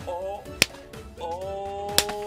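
Two crisp, close hand claps used to fake a stage slap, spaced a little over a second apart over quiet background music.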